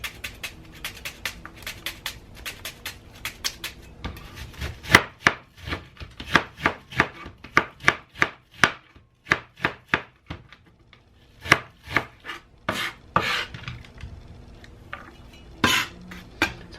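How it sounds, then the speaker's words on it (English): Sharp knife strikes chopping onion on a cutting board, quick bursts of repeated chops with brief pauses, close and crisp, no talking. "Chop up some onion."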